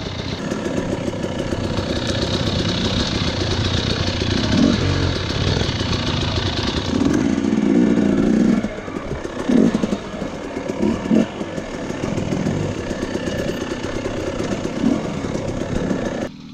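Dirt bike motorcycle engine running steadily during trail riding, a continuous mid-pitched motor drone with some clatter and rises in throttle, loud and close throughout with no talking.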